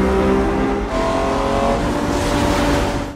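A Ferrari engine roar builds steadily and loudly for the whole moment in a teaser for a biographical drama about Enzo Ferrari, with harmonic tones layered over it.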